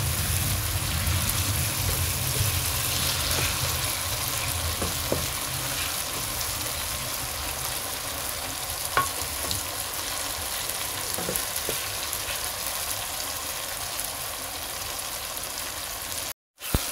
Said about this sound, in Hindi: इनको मैं 5 मिनट के लिए फ्राई करूंगा